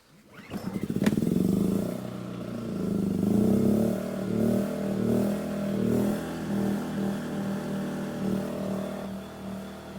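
A generator powering a welder starts with a quick cranking clatter and then settles into a loud, steady engine drone whose labor rises and falls in slow waves under load.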